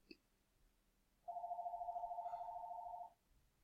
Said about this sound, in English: And there was the phone call.